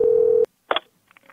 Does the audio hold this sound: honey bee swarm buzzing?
no